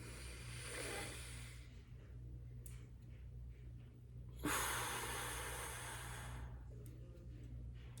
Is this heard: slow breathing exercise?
yes